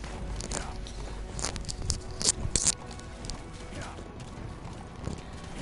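Horse hooves clip-clop in Metal Gear Solid V: The Phantom Pain, a run of steady, fairly quiet footfalls with a few sharper knocks, set against a low game ambience.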